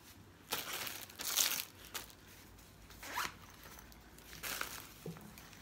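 A plastic travel bag is folded up, giving several bursts of crinkling and crumpling close by, with short pauses between handlings and no talk.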